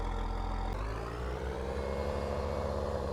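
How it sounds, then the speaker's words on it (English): A tractor engine in Farming Simulator 19 comes to life with a low rumble that settles into a steady, loud diesel drone with no talking over it. "Start the tractor."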